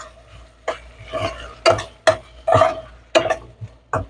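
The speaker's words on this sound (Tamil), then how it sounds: "குடமிளகா சேர்த்தாச்சு. நல்லா கிளறி விடுறோம்." A spoon scrapes and clinks against a pan while capsicum and tomato are stirred, giving about ten separate, fairly close knocks at an uneven pace with no talking.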